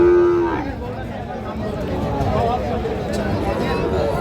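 A Sahiwal cow moos once, loud and close, at a busy cattle market, with a long low call opening the clip before crowd chatter and voices carry on over the market din.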